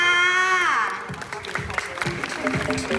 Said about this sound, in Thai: ขอเสียงปรบมือให้กับ MC อัมมี่และ MC ฟักแฟงค